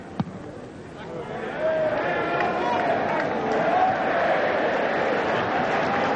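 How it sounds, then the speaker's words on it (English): Rugby crowd at a 1984 John Player Cup match between Bristol and London Welsh, a broad, sustained wash of cheering and applause that swells after a brief pause and holds steady, with commentary talk over it. "a special cheer for that, and a rousing applause from the crowd to salute an exceptional Bristol performance"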